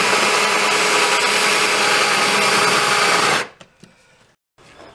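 A loud, steady drill whine runs without a break for several seconds as it cuts through the bottom of a box, then cuts off abruptly, leaving a few faint clicks and near silence.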